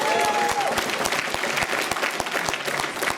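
Conference audience at the ICBC opening in Berlin bursts into sustained applause and cheering, a dense wash of clapping from a large crowd with no speech over it.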